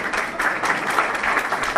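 A chamber of commerce meeting audience claps after lunch, a brief, dense burst of many hands applauding evenly and fairly loud, with no speech over it.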